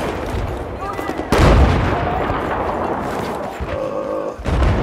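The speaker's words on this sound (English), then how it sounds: "Those mortars are ripping us up." Battlefield 4 mortar fire pounding a defended position, with heavy booming impacts and rumbling blasts amid steady battle noise, punctuated by a strong hit near the start.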